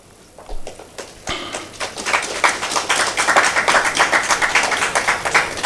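Audience applause at the official launch of Heirs Insurance and Heirs Life, building after a second into steady, dense clapping from a large crowd that continues at a fairly loud level.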